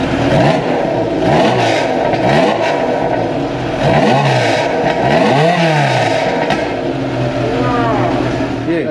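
A Ferrari 328 engine, stroked to 3.8 litres, revs loudly and close up. Its pitch sweeps up and down in repeated throttle blips over a steady idle, with no talking.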